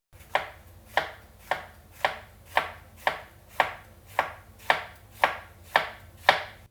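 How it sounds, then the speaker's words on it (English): A knife slicing a jalapeno crosswise into thin circles on a cutting board, about twelve crisp, evenly spaced chops at a steady rhythm, close and clear with no talk. "cut some thin jalapeno slices to put on top"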